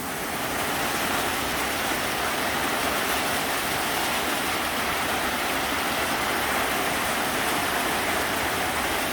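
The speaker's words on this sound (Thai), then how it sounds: "พอฝนตกมา มันสาด เปียกหมดเลย" Steady, dense roar of heavy rain driven by wind at midday over fields ready for rice planting, unbroken and even throughout with no voices.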